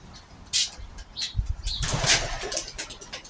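Pigeons take off and fly rounds outdoors, their wings giving several sharp, close flapping bursts followed by a stretch of fluttering.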